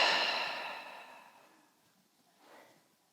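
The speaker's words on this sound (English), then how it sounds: "and breathing out." A slow guided exhale during a restorative yoga relaxation, a soft breathy sigh that fades gradually over a few seconds, followed by a faint second breath near the end.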